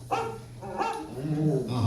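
A dog barks inside the Carousel of Progress ride at Walt Disney World, a few short close barks mixed with a voice over a steady low hum.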